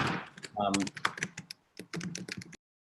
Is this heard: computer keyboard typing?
yes